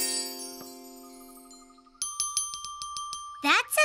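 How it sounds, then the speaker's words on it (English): Small bell in a children's cartoon, first a long ringing tone that slowly fades, then a run of quick bright tinkling strikes, ending in a short burst of other cartoon sound. "That's a nice little bell."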